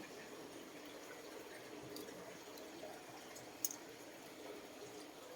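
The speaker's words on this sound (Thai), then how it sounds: "แล้วก็น้ำไหล ไหลมาจากข้างล่างนะ" Water flowing up from below in a cave beside a roadside stop, a steady soft wash of running water, fairly faint and continuous, with a brief louder splash or drip near the end.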